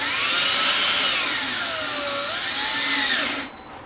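A power drill bores into the fork cap of a 2006-10 Suzuki GSXR 600 during a fork seal service, a loud close whine whose pitch sweeps up and down before spinning down and stopping at the end.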